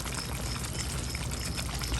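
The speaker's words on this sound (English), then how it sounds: "I'm going to pour in here about half a cup of water" About half a cup of water is poured into a simmering fish curry, a soft, steady splashing pour mixed with faint bubbling, quiet and close with no talking.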